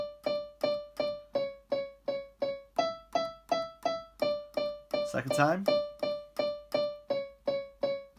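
Keyboard playing a verse section of a song twice through, a steady train of evenly struck notes with a brief spoken interjection partway through over the playing.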